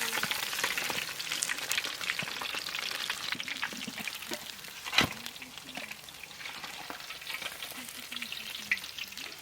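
Rui fish fries in hot oil with a steady, close hiss and sizzle broken by scraping stirs and a louder clatter midway, continuous and fairly loud throughout.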